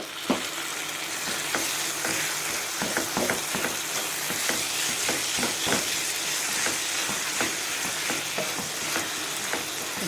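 Minced mutton keema frying in a cooked-down masala, a continuous close sizzle broken by frequent scraping stirs and spatula knocks against the pan in an uneven rhythm.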